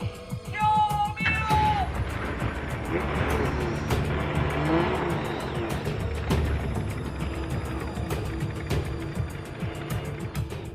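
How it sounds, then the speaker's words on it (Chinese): Inside the driver's cabin of a modified car, loud engine roar is piped straight in, a dense sustained growl with tire squeal and skidding that swamps a faint cry for help early on. "发动机的噪音轻而易举就可以掩盖掉人声，"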